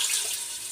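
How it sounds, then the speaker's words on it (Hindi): Water pours steadily into a cooking pot for chana dal, a brief close, hissing splash with no speech. "अब इसमें हम पानी डालेंगे।"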